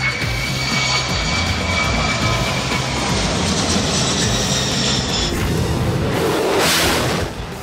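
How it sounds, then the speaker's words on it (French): Firefighting airplanes fly low to drop fire retardant, giving a loud, sustained engine roar that swells and then rushes away near the end, with no talking. "Des avions larguent des substances spéciales pour empêcher la propagation d'un incendie."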